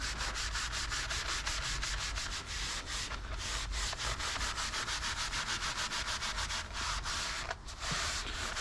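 Gloved hand rubbing a protective fabric coating into upholstery fibers, a close, continuous scrubbing swish made of rapid repeated strokes, steady and fairly quiet with no talking.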